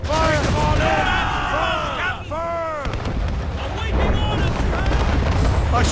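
Ship cannons boom in a naval battle in Assassin's Creed Rogue, heavy blasts rolling over wind and sea noise while crew members shout orders.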